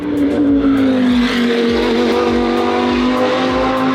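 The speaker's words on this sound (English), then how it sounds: "Sorry, I keep pausing because the cars are so damn loud" Loud racing cars scream past trackside during an endurance race, with high engine whines sliding downward in pitch as each car passes, one after another in rapid succession, with no talk over them.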